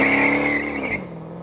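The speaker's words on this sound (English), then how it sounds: "My setup at 19, Charger Hellcat wide body, Dodge Ram 1500 Hemi," A loud V8 muscle engine from a Dodge Charger Hellcat widebody or Ram 1500 Hemi roars steadily, then its revs drop off within a second, close and forceful with no talk.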